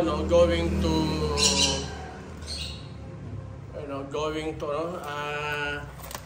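Hand-fed baby green-cheeked conures and sun conures chirp and squawk in shrill bursts, close and fairly loud, with a person talking between and over the calls.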